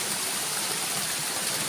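Water pours and rushes steadily at a mountain cave waterfall near Phu Ban Ang, a dense, close, even roar of flowing water that runs unbroken throughout, with no voices.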